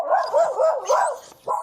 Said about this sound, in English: She has a little friend who really likes to bark.